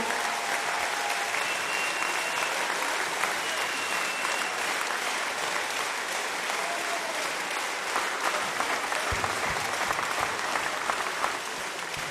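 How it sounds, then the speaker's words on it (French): A large audience at a volleyball tournament awards ceremony applauds the volunteers, sustained dense clapping that stays loud and steady throughout, with a faint voice now and then underneath. "j'aimerais qu'on l'applaudisse très très fort"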